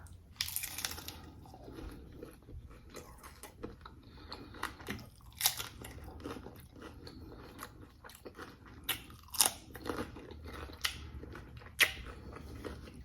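A crunchy taco shell filled with ground turkey, cheese, tomatoes, spinach, sour cream, guacamole and jalapenos is bitten and chewed up close, with repeated sharp crunches and quieter chewing in between and no talking.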